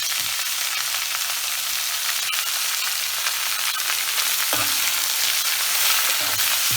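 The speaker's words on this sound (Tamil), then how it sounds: "நம்ம நறுக்கி வச்ச கீரையை போட்டுருவோம்" Chopped amaranth greens stir-fry in a hot pan for a keerai sundal, a loud, steady sizzle with occasional stirring scrapes and no speech.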